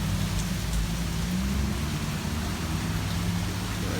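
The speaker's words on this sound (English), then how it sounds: "so I can watch the rain in a clear tent or whatever" Rain falls steadily during a storm in Florida, a dense even hiss with a low rumble underneath, constant and close, with no voices.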